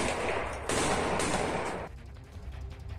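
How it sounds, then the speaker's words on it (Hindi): Chechen fighters fire guns at the Ukrainian army, a loud, rough burst of rapid gunfire with a sharp restart partway through, then fading into thinner, ragged crackle and echo. "उनके लड़ाके यूक्रेन की सेना पर ताबड़तोड़ गोलियां बरसाते दिखाई दिए थे"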